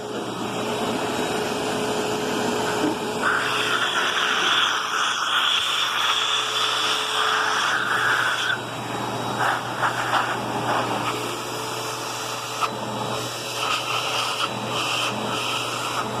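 A Eureka Ultra Whirlwind vacuum cleaner runs steadily indoors with a constant whooshing motor hum, its pitch shifting slightly as it moves across the floor.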